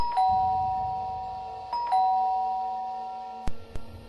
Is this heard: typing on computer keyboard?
no